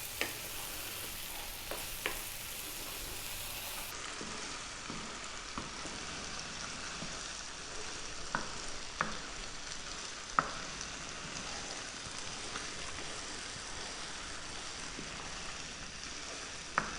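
Spicy lentils for Indian dal fry sizzle and crackle steadily over high heat while a spoon stirs them, with occasional louder scrapes and ticks against the pan; no talking.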